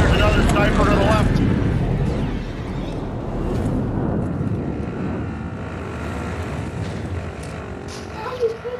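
A video game airstrike roars in as aircraft fly over, a loud broad rumbling swell that slowly fades, with game voices and effects mixed throughout.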